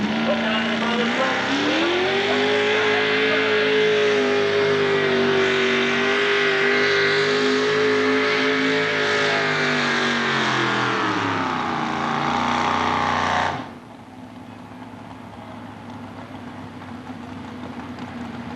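A Ford modified four-wheel-drive truck engine at a 1996 tractor pulling event in Armada, Michigan roars loudly and steadily for about thirteen seconds with rising pitch, then cuts off abruptly, leaving distant crowd and engine noise.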